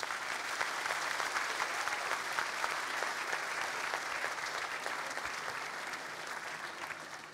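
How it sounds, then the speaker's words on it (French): A hall audience applauds steadily during a mayor's New Year speech in Béthune. The sustained clapping sounds somewhat distant and fades slightly toward the end. "Oui, on peut les applaudir."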